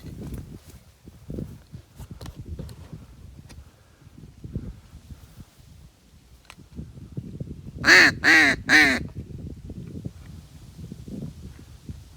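A black duck quacking in a marsh during a duck hunt, three loud quacks in quick succession partway through, over quiet rustling and footsteps.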